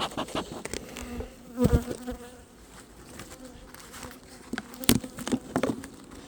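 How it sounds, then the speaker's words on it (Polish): Honeybees buzz steadily around a hive during a honey super inspection, with individual insects droning close by in brief bursts over a low background hum. "Raczej nie ma za dużo pszczół w nadstawce"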